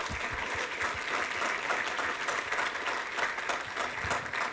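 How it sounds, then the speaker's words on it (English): An audience at a senior project presentation event claps steadily in sustained, moderately loud applause with no voices. "giving a round of applause for our senior students and for those who are presenting their senior projects today"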